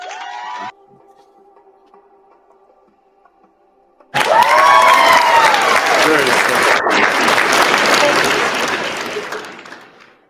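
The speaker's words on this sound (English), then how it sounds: "Give him a little hand clap for that, please." Applause sound effect played during a live stream, a loud recorded burst of crowd clapping and cheering with shouts that starts abruptly after quiet talk and fades out at the end.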